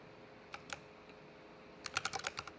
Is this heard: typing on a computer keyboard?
yes